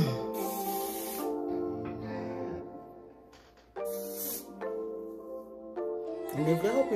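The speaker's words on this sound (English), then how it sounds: "when I spray this, I'm spraying this on my skin, not my hair." A handheld spray bottle misted onto skin, giving several short hissing bursts with pauses between them, close to the microphone, over a faint musical background.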